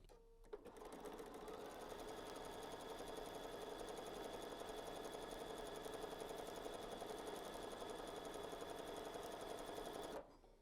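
A sewing machine quilting a stained glass style fabric placemat runs steadily for about ten seconds at an even, loud, continuous whir before stopping abruptly.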